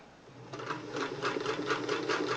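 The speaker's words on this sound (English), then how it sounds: "And I'm going to sew the stitch." A Singer 328K sewing machine running a zigzag stitch, a steady rapid mechanical clatter that starts after a brief quiet lead-in and continues at an even pace, close and fairly soft.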